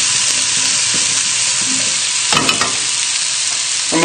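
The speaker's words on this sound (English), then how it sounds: "give the potatoes a shake" Potatoes sizzle loudly in a hot pan, steady and close, and partway through a brief rattling shake of the pan breaks through the frying noise.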